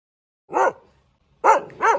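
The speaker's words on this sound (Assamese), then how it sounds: "কুকুৰে ভুকি আছে" A dog barks three times nearby: one sharp bark, a pause, then two quick barks in succession.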